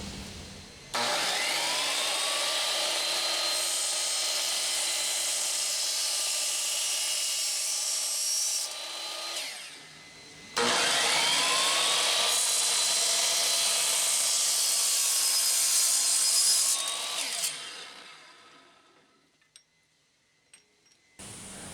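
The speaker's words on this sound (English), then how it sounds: "let's get off to the chop saw. I'm going to cut these down to size" Chop saw cutting lengths of aluminum angle stock into small mounting brackets for a camper solar install: two long, loud whining cuts separated by a short pause, the motor spinning down after the second, followed by faint clinks.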